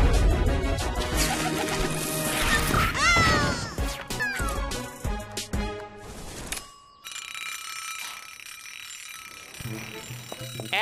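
Cartoon cat meowing in an animated Portuguese-dubbed children's show, several sliding meows over busy music and effects, loud and close, with a quieter stretch of background score toward the end.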